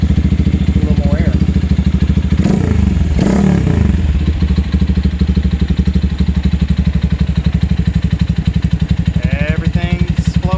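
A Lifan KPR200 motorcycle engine, running again after being revived, runs loud and close with a steady, throbbing idle, briefly revving, while a voice speaks over it a couple of times.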